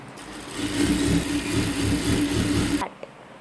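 A sewing machine stitches coat fabric in a steady whirring run, close and fairly loud, that stops abruptly near the end and leaves a quiet room.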